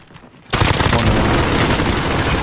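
A sustained burst of light machine gun fire in the Call of Duty Warzone video game, starting abruptly after a quiet moment and continuing as loud, rapid, unbroken automatic shots.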